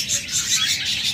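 A pair of aviary birds, budgerigars, lovebirds or doves, calls in a steady run of high chirps and tweets, close and fairly loud.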